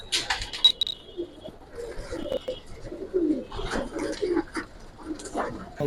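Giribaz pigeons of the Palla line coo softly in a loft in short repeated bursts, with chirpy calls and other bird sounds in between and a person talking intermittently nearby.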